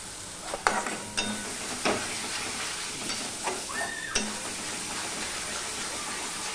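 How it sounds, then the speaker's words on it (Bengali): Taro leaves stirred in a pan until dry, faint sizzling with occasional sharp clinks and scrapes of a utensil against the pan, fairly quiet and without talk. "অনবরত ধরে নেড়ে নেড়ে পুরো জলটা শুকিয়ে নিতে হবে"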